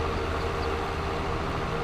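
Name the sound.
train ride in a video game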